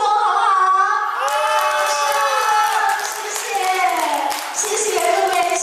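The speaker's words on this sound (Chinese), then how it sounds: "用最最热烈的掌声，跟我们线上的这些朋友们来一次隔空的互动" An audience claps and cheers at a Yue opera showcase featuring Qi-school amateur performers, the applause sustained and dense throughout while a voice carries over it.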